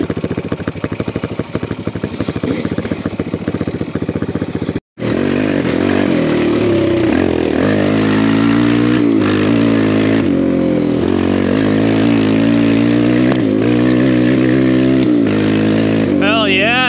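A BBR KLX170RF dirt bike fitted with a big bore kit roars loudly while being ridden, engine rising and falling through revs, with a brief cut partway through and a rider's voice over it.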